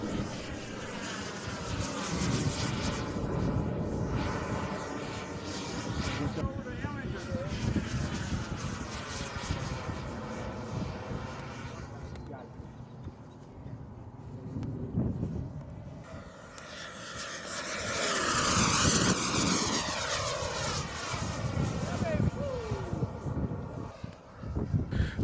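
A radio-controlled turbine model jet roars past in low passes, its engine whine swelling and fading as it moves overhead, then climbing into a louder, higher howl as the throttle opens, outdoors with no talk.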